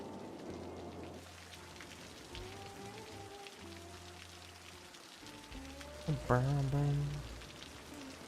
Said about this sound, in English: Ooh, look at the rain.